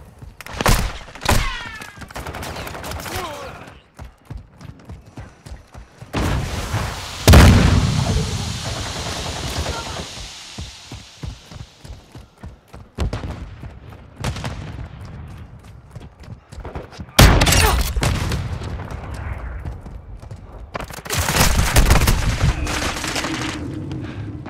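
Gunfire and explosions in the shooter game Call of Duty: Modern Warfare II, loud bursts and sharp repeated shots with heavy booms around 7, 17 and 21 seconds, dense and close throughout.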